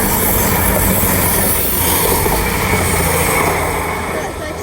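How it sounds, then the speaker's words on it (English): A Thameslink service from Three Bridges to Bedford passes through West Hampstead Thameslink station as a loud, continuous roar of rolling wheels and rushing train noise, with faint squealing and someone talking over it. "Coming through now is a Thameslink service from Three Bridges to Bedford."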